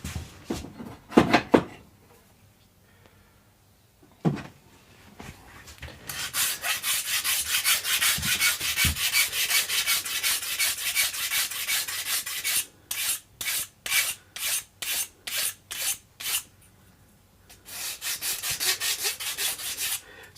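A hand file works wood on a baritone guitar build: a few scattered knocks, then a long continuous rasping stroke, followed by a run of short, even back-and-forth file strokes and another sustained rasp.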